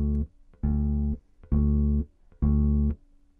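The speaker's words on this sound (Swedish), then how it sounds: "Den lite enklare låter så här." Electric bass plays a simple rock accompaniment, four long sustained notes with short gaps between them, clear and close with nothing else playing.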